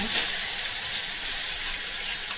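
Brinjal and green chillies fry in hot oil in a kadai, giving a constant loud hissing sizzle that fills the short moment without any voice.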